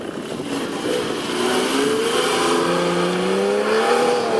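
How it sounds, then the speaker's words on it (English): Porsche sports car engine revving under load on a skid pad, pitch wavering and briefly stuttering as traction control intervenes before climbing again, loud and close with no talking. "You heard a little stutter from the engine as it kind of started turning there"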